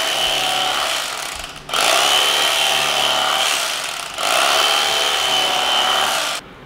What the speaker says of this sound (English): If you're ever gonna bust out the electric knife, Thanksgiving Day is the day to do it.